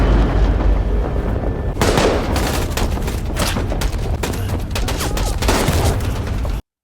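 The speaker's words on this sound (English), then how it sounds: "Suddenly, gunshots begin to ring out." Film gunfire erupts in a chaotic shootout, with dense, loud, repeated bursts of shots and booming impacts that go on for several seconds before stopping abruptly.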